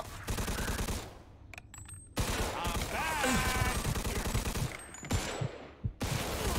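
Dense gunfire from the video game Mafia 2 (Definitive Edition): rapid, loud bursts of automatic shots and overlapping fusillades that run almost without pause, with brief gaps and a few sharper single cracks.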